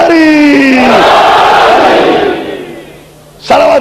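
A large gathering at a 1988 Shia majlis raises a loud unison religious slogan chant, one sustained rising shout that fades, then a fresh burst of voices starts near the end.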